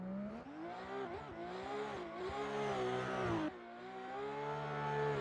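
A drift car launches on a qualifying run at Sturup Raceway, its engine revving loud and close with rising and falling pitch through gear changes, a sharp dip midway before climbing again.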